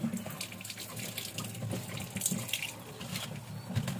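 Something is washed under a running kitchen tap, a soft continuous stream of water with light splashing and a few drips, fairly quiet and close.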